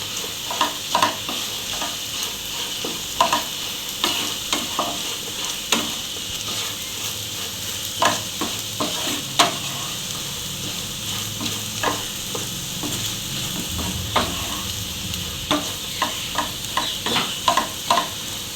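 Potatoes fry in a pan with a steady sizzle while a spoon stirs them in repeated scraping strokes, close and clear with no talk.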